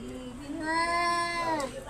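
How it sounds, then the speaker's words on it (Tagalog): Two cats yowl and meow in a drawn-out, rising and falling cry during a fight, close and fairly loud, with a person's voice faintly present. "Nag-away na naman yung mga pusa."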